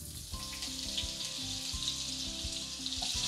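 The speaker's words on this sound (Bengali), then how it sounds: "গ্যাসের ফ্লেমটাকে হাইতে করে দিয়ে আলুগুলোকে ভেজে নেব।" Potato pieces fry over a high flame in mustard oil with cumin, dried red chilli and a bay leaf, giving a steady, close crackling sizzle that holds evenly throughout, with a low tonal hum underneath.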